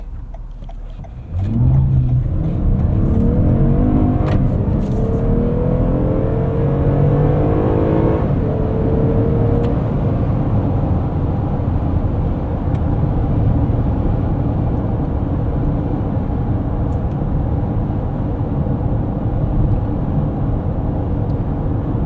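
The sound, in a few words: Toyota Highlander XSE accelerating up a highway entrance ramp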